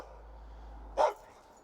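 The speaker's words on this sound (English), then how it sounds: "The bark is a little bit deeper, not too much." A dog gives one short, fairly deep bark, alone against a quiet background.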